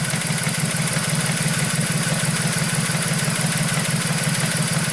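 Volkswagen Polo 1.2 AZQ three-cylinder petrol engine idling smoothly around 600 rpm after a new timing belt kit, a close, steady low throb with an even pulsing rhythm and no misfires.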